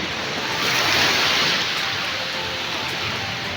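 Rough surf at San Fabian Beach rolls in as a steady, loud wash of breaking waves, with wind buffeting the microphone throughout and no voices.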